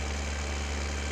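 An old tractor, apparently built in the 1950s, idles in Farming Simulator 15, giving a steady, loud, low engine drone with constant vibration and no pauses.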